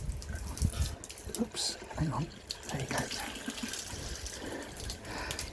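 Water gushes out of a plate chiller and splashes onto a floor while brewing a Czech Pilsner, a steady, close pour running under a man's speech.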